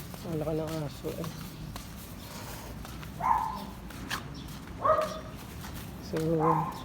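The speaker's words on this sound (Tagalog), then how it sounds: "Ang laki ng aso eh." A large dog gives a few scattered barks and a thin whimper during a village walk, the sounds fairly close but spaced out over quiet background noise.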